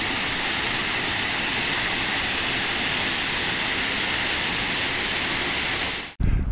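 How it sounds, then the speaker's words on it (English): A waterfall on the trail up to Crypt Lake roars steadily and loudly as a dense, unbroken rush of falling water, cut off abruptly near the end. "First waterfall on the way up to Crypt Lake."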